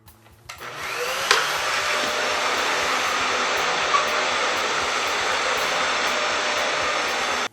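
A household vacuum cleaner starts up and runs steadily and loudly, a continuous broadband whine and roar that holds for several seconds, used to clean a house by someone without a prosthetic leg.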